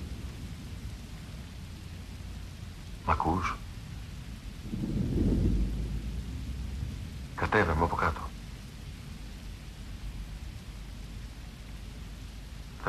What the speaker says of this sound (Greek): Έξω βρέχει